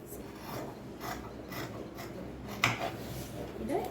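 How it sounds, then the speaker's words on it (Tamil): Scissors cut through blouse fabric during tailoring, a soft rasping snip repeated at a slow rhythm, close and quiet, with a sharper click near the end. "இதை நான் அப்படியே கட் பண்ணிக்கிறேன்."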